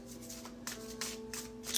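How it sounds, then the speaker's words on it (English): Oracle cards are shuffled by hand during a tarot reading, with several quick riffling bursts at a steady rhythm, close and soft over a faint background hum. "3 more shuffles."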